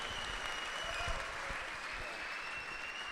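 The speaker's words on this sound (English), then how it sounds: "we could clap for that" Audience applause at a live talk about Bitcoin, a steady dense wash of clapping held at even loudness throughout, moderately distant with a faint voice briefly audible beneath.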